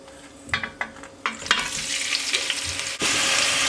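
Fish sautés with coconut in a pan for a CKP fish curry. A few quick stirring scrapes and clatters lead into a building sizzle that jumps to a loud, steady hiss partway through, with no one talking.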